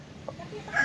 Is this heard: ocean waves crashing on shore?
no